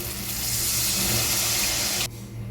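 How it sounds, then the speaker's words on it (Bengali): Water pouring in a continuous, loud stream into a pan of fried spices for a hilsa fish head curry, stopping abruptly near the end. "এবার আমি দিয়ে দেবো পরিমাণ মতো একটু জল"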